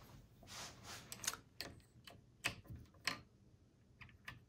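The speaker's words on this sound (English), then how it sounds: "so that you hear that clicking again. Something's happening." The mechanism inside a Harry Potter puzzle chest gives a series of faint, irregular clicks, each sharp and brief, with quiet gaps between them.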